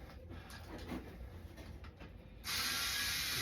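Gibson Les Paul Traditional Pro tuners on a 2012 guitar ratchet as the strings are slackened, a fine clicking texture that swells into a loud, steady, close-up grinding rush near the end.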